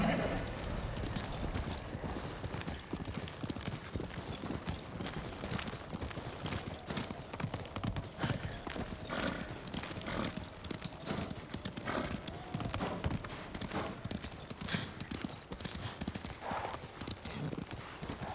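Horse hooves clip-clop steadily at a gallop in the video game Ghost of Tsushima, a continuous close rhythmic pounding with an occasional whinny, with someone talking now and then over it.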